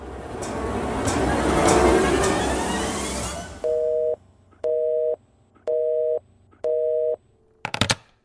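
A telephone busy tone after a call is hung up: four steady, evenly spaced beeps, loud and close, following a stretch of broad noisy rumble and ending in a short burst of sound.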